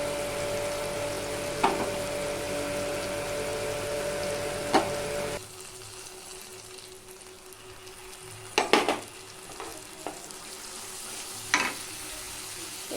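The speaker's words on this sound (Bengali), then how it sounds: "কড়াইতে ওই তেলের মধ্যেই দিয়ে দিচ্ছি গোটা গরম মশলা, শুকনো লঙ্কা, চিনি আর তেজপাতা" Whole garam masala spices, dried red chillies, sugar and bay leaves fry in oil in a kadai, a steady close sizzle that later drops quieter, broken by a few sharp utensil clinks and scrapes.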